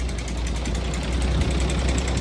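A low, steady idle from an old truck's engine rumbles continuously with a faint knocking pulse and rattling vibration, close by and fairly loud.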